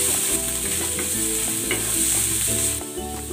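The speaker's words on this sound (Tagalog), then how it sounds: "Igigisa ko na tong bawang. At ang sibuyas." Garlic and onion sautéing in cooking oil, a loud, dense, continuous sizzle with a low steady hum underneath, close up and without speech.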